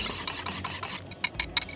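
Gochujang, vinegar, sesame oil and grated garlic burger sauce being stirred smooth in a bowl, a close, soft scraping and rubbing with a few sharper clinks near the end.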